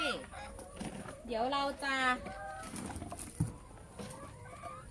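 Chickens on a farm in Chiang Mai cluck and coo in short, close calls, with people talking over them throughout.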